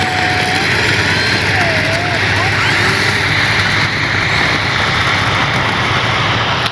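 Electric motor of an E-flite Piper Cherokee RC plane runs with a loud, steady whirring drone that holds at an even level throughout.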